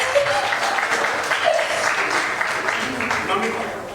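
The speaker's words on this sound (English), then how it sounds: "So round of applause, people." An audience at a corporate rewards and recognition event gives a round of applause, a steady wash of clapping mixed with crowd murmur and voices.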